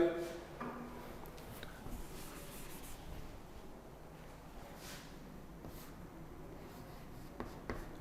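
Pen or marker writing out an algebra formula by hand during a lecture, a faint continuous scratching with brief strokes and taps over a low room hum, close and quiet.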